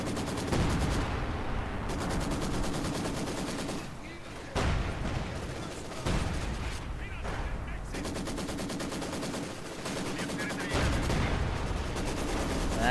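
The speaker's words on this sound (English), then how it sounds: "We've got artillery from that artillery piece coming in." A strategy video game battle rumbles with continuous artillery fire and rattling gunfire, loud dense bursts layered with booms and brief gaps, the barrage almost unbroken throughout.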